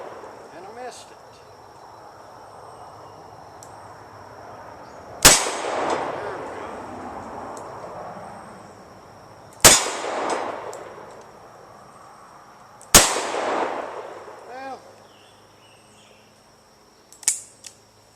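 A Ruger SP101 .357 Magnum revolver fires at a steel target outdoors. Three loud, sharp shots come several seconds apart, each followed by a ringing tail, and a fainter crack follows near the end.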